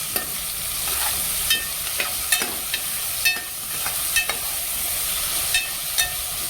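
Okra stir-frying in hot oil with salt for a spicy dry okra and carrot sabzi, giving a steady sizzling hiss broken by sharp clicks of a spatula against the pan, close and alone.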